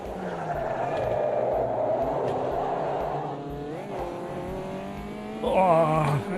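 A Caterham race car in a racing video game drones steadily, then its engine revs climb sharply twice, the second burst louder and closer, with no talking over it.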